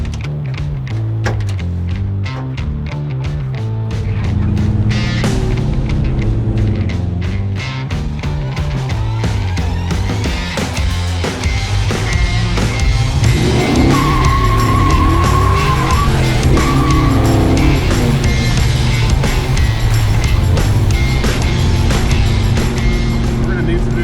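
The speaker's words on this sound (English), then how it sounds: "We're gonna need some new tires." An LS-swapped Chevelle driven hard, engine roaring loudly through repeated revs and shifts while tires squeal and skid in long screeching bursts, with voices heard over the noise.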